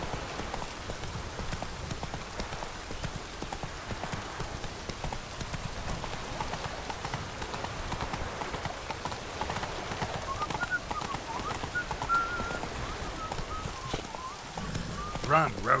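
Hooves of the horse Roach clip-clop in a fast, steady gallop through rain in The Witcher, a continuous drumming rhythm with someone speaking over it.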